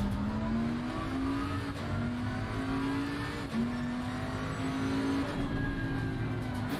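Race car engines whine in a sim racing game at Spa, one steady high engine note climbing in pitch through the gears while an Audi closes from behind and passes, with no talking.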